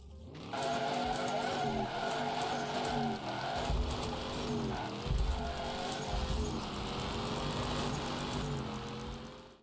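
In the racing video game Hadwalago, cars skid with long tire squeals over steady engine roar. The sound stays loud and continuous with wavering pitch for nearly ten seconds, and no voices are heard.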